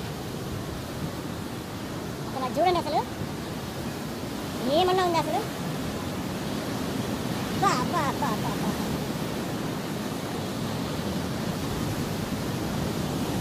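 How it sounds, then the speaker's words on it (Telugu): Sea waves rolling onto a beach in Kerala, a steady broad wash of surf and wind across the whole stretch, with a person talking excitedly over it in bursts. "ఆ పీచు సౌండ్ కనుక అలలు సౌండ్ అసలు మామూలుగా లేదు"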